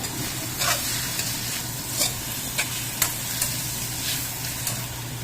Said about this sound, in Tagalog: Habang nilagisa pa natin itong ating pork